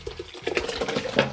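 Hot decoction mash poured back into the main mash for a Czech premium pale lager, a brief close splashing and gurgling of liquid with a stirring swish toward the end.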